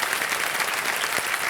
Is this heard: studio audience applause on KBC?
yes